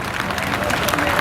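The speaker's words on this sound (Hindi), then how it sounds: "तालियों के साथ" An audience breaks into a short burst of dense clapping at a parade and farewell ceremony for a retired office superintendent in Gorakhpur, with lively crowd noise mixed in.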